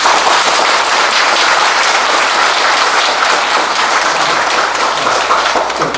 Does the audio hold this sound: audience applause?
yes